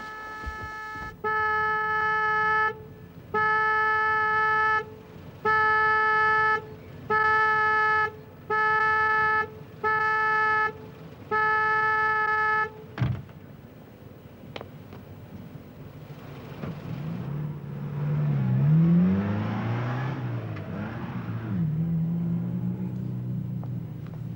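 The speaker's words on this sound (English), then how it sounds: "It's that car outside." A car parked outside a house sounds its horn in about seven loud, evenly spaced blasts, then its engine revs and roars unevenly for several seconds.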